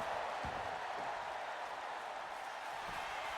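A wrestling crowd at a live match produces a continuous roar of cheering that holds steady throughout, distant and diffuse, with faint scattered shouts and no clear speech.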